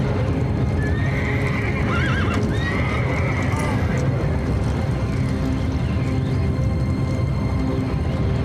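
Horses gallop with dense, continuous pounding hooves, and neighs and whinnies cut through the noise. The drumming is loud and steady throughout.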